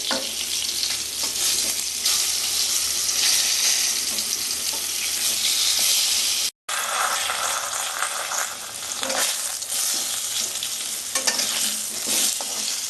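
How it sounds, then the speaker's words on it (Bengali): Bengali-style chicken biryani is stirred in a pot: a dense, loud hissing sizzle with scraping and clattering strokes, continuous apart from a brief cut midway. "ঢাকাটা খুলে নাড়তে থাকবো বিরিয়ানি করতে একটু টাইম লাগে"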